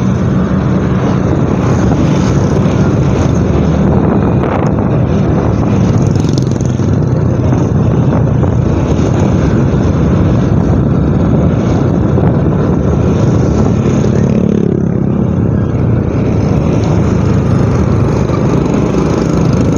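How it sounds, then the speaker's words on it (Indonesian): Motorbikes and cars passing along a busy Banjarmasin street at Handil Bakti, a loud, continuous engine drone and road rumble with no break, close by. "kendaraan yang berlalu lalang di sini"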